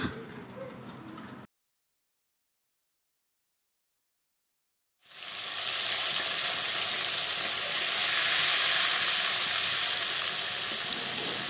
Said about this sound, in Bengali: এখানে মাছগুলো ভাজা বসিয়ে দেওয়া হয়েছে। মাছগুলো এখন ভেজে নেই